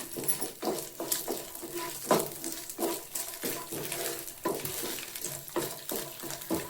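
Sago roasting in ghee in a pan, with soft rhythmic stirring scrapes and a light sizzle, quiet and close, repeating every half second or so.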